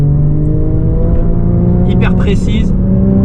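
A 2011 Porsche Cayman S engine holding a steady hum while driving, with someone talking over it most of the way through.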